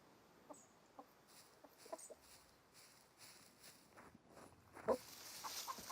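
Chicken clucking effect from the video game Magic Arena: faint, scattered short clucks and taps spread across the clip, with a louder burst near the end.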